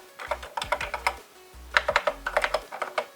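Keys pressed on a Texas Instruments TI-99/4A home computer keyboard, two quick bursts of close, crisp clicking typing separated by a brief pause.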